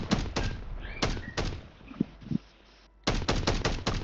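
Bursts of Warzone 3 gunfire in Plunder mode: several sharp shots up front, a quieter gap with a couple of thuds, then a rapid string of shots closing out, loud and close with no talk.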